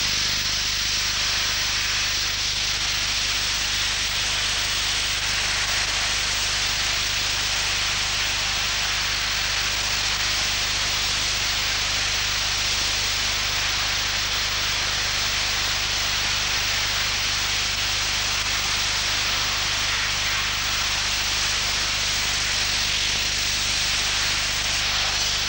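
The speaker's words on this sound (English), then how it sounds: "the Armex Accustrip system quickly removes the thick Vitar coating" Armex Accustrip soda blasting strips thick Vitar coating from a submarine test panel, a loud, unbroken broadband hiss of pressurized spray running steadily from start to finish.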